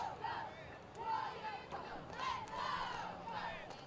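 Young voices of a cheering squad chant in repeated rising phrases over a busy crowd at an 8th grade middle school football game, Winton Woods versus Pleasant Run, moderately loud and continuous across the short stretch.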